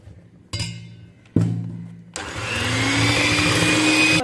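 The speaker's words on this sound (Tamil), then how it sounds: "ஒரு நிமிஷத்துக்கு நல்லா முட்டையை அடிக்கணும்." An electric mixer beats eggs for a chocolate cake, its motor whirring in three bursts that start and stop before settling into a steady, rising whine, close and loud, with no talking.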